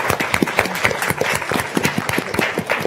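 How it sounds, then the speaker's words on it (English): A smaller audience claps for the panelists at the close of a mental health equity roundtable, with distinct individual handclaps audible within a moderate, fairly close patter that keeps going for a few seconds. "Let's please give our esteemed panelists a round of applause."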